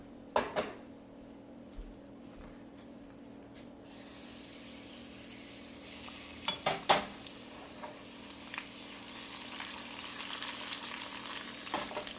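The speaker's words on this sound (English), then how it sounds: "you want to be paying more attention to your steel cut oats, giving them a nice stir" Steel cut oats stirred in oil on a flat grill, a steady close sizzle with a few scraping stir strokes rising in the middle and continuing to the end.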